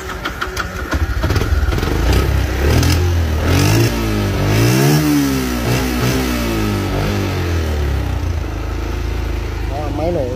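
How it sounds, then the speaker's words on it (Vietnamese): A Yamaha Exciter 135 motorcycle engine runs nearby, idling then revving up and down in several rising and falling sweeps before settling back to a steady idle, loud and close. "Nhưng mà bây giờ mình sẽ test máy cho anh em mình nghe này."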